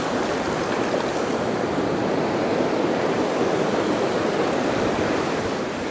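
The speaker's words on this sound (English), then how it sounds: "you can see the waves pushing all the" Ocean waves wash steadily ashore at low tide, a continuous broad rushing surf with no breaks, loud and close, with no voices.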